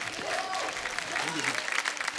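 A studio audience at a comedy show applauds a singer, the clapping kept fairly soft and steady beneath someone speaking over it.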